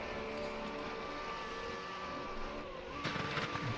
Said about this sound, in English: You can hear a revving of an engine here.